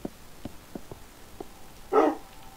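A pet dog, a tamed wolf in the Minecraft video game, gives a series of short, faint yips in an uneven rhythm, then one louder, fuller bark near the end.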